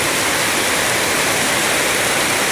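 Dense, continuous roar of heavy rain pouring down near the sea, loud and close, with no pauses or voices.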